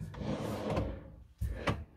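A proper drawer inside a Carthago Chic C-Line T4.8 LE motorhome slides open and shut, making two short, close knocks separated by a brief pause, with a soft rolling rustle and no talk.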